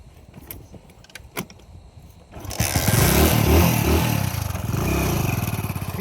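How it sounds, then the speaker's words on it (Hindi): After a few faint clicks and rattles, a vehicle engine, likely a motorcycle, starts up at night in a forest and settles into a loud, close, steady running idle. "गाड़ी स्टार्ट कर"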